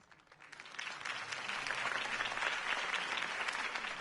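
A crowd at a Harvey Dent campaign speech in Batman: The Telltale Series breaks into applause, swelling from quiet to a full, steady clapping roar that holds to the end.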